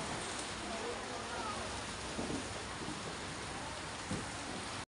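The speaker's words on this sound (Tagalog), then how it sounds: "Inabot na kami dito sa ulan." Steady rain falls during a typhoon in the Philippines, a continuous close hiss of drops with faint voices in the background and a few soft knocks.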